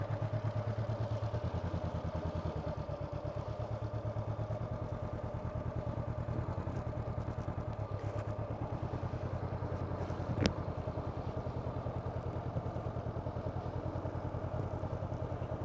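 A motorcycle engine idles and pulls away slowly at low revs in a riding practice session for slow-speed balance, a steady close rumble with a single sharp click midway.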